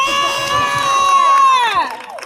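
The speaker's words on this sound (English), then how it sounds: "Now what Ryan said even louder!" A large crowd at a political campaign event in Montrose, Michigan shouts and cheers together loudly, a sustained roar of many voices that fades off at the end.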